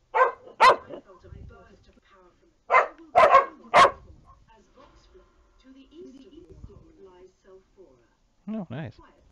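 A pet dog named Daisy barks sharply indoors in a string of loud, close barks with pauses between them, plus a few whimpering yips. A voice talks quietly in the gaps.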